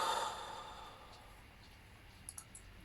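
One deep, breathy exhale fades slowly, close and soft, followed by faint small clicks.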